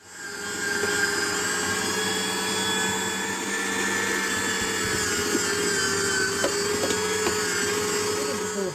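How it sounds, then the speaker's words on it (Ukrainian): A meat grinder steadily churns hot peppers and garlic for an eggplant dressing, a continuous mechanical whirring drone that holds level for the whole stretch with a few small knocks near the end. "Беремо перець і часник і все перекрутимо на м'ясорубку"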